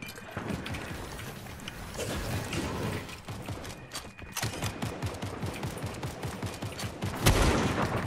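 Rapid bursts of gunfire rattle through a Fortnite match, with dense, overlapping shots and mechanical clatter, loud and continuous, with a sharper burst near the end.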